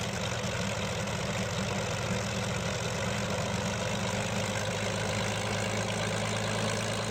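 A Curtiss P-40B's aircraft engine idles in Microsoft Flight Simulator 2020, a steady low rumble with a pulsing drone that holds unbroken throughout.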